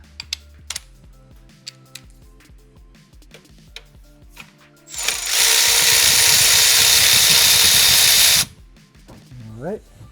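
A ratchet turns a 12 mm bolt near the alternator on the valve cover of a 2015 Honda CR-V K24 engine, giving scattered clicks followed by a loud sustained whirring burst of several seconds, close by.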